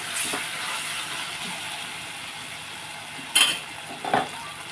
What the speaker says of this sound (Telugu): అల్లం వెల్లుల్లి పేస్ట్ వేసి మనం ఒక నిమిషం కలుపుకొని